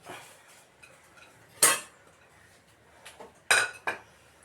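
Crushed cardamom goes into a cooking pot for fried rice, followed by the lid being set on: a few sharp metallic clanks and clinks of lid and utensil against the pot, spaced apart over quiet background.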